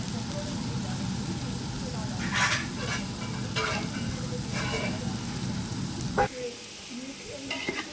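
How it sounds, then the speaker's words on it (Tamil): Ginger garlic paste sizzles in a pan for a chicken biryani, a steady rain-like frying hiss with several scraping stir strokes, then the sizzle drops away into quieter scattered crackles near the end. "இஞ்சி பூண்டு பேஸ்ட் போட்டு நம்ம ஒரு அஞ்சு நிமிஷம் நல்லா வதக்கி விட்டுறலாம்"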